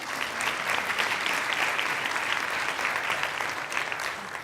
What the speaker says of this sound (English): I think you can clap after each of these.